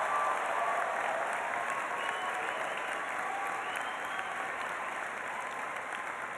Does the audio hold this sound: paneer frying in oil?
no